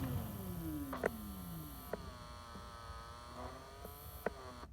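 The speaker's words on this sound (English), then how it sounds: "I should hear that actuator motor spin." A blend door actuator motor in a 1996-2000 Dodge Grand Caravan heater system spinning, a faint whirring hum with a few clicks and a soft descending tone, quiet and close, no talk.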